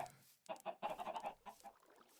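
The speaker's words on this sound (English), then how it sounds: "Chickens!" Minecraft chickens give a short series of quick, quiet clucks, about eight in a row, faint and close together, then trail off.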